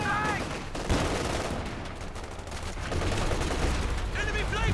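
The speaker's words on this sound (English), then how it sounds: "50 cal reposition from Fonzarelli. Some nice suppression on this Volkswagen." Continuous .50 cal machine gun suppressive fire from a Company of Heroes 2 battle, a dense rattling burst of game gunfire running throughout, loud and layered with other battlefield noise and a commentator's voice.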